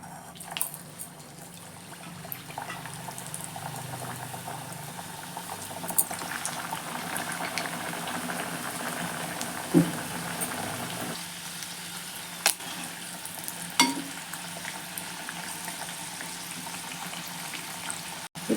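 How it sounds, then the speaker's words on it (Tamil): Potato kachori deep-frying in a pan of hot oil, a steady bubbling sizzle running throughout with a few light clicks and knocks of utensils, no talking. "இப்போ எண்ணெய் சூடு எரிச்சு போட்டுக்கலாம்."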